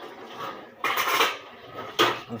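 Pots, dishes and utensils being washed: two sharp metallic clatters of cookware knocking together, close and moderately loud, with quieter handling in between.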